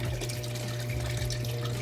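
Water from a garden hose runs steadily into an aquaponics fish tank, a continuous close splashing flow with a low hum underneath, no voices.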